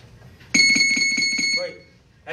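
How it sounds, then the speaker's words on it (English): A boxing round bell during a shadow boxing bag workout rings in a rapid burst of bright, ringing strikes lasting about a second. It is loud and close, with nothing else heard, then decays away. "Bell's coming."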